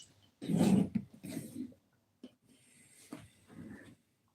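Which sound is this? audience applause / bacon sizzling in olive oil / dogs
dogs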